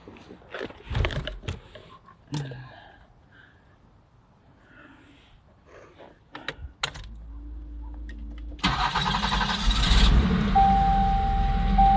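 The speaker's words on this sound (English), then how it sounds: "now we're going to start the vehicle." A 1990 Buick Reatta's 3.8-liter V6 cranks and catches after a few clicks and clunks, then settles into a steady, loud, close-up running drone, newly fitted with a replacement mass airflow sensor.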